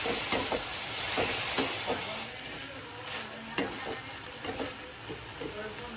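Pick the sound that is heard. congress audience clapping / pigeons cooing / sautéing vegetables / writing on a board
sautéing vegetables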